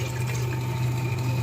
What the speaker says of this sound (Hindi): पतीली में डालना है 1 कप के करीब पानी